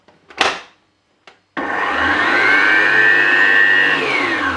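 After a few clunks and handling knocks, a stand mixer starts up on low speed beating brioche dough with eggs, a steady close motor whine with a rising tonal hum and churning drone that runs on without pause.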